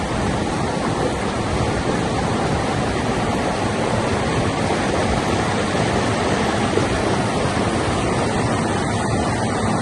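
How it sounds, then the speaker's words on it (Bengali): A loud, constant roar of rushing water pours without pause, a dense wall of noise from the Shoilopropat waterfall in Bandarban, close by. "শৈলপ্রপাত ঝর্ণাটা কিন্তু অনেক বড়"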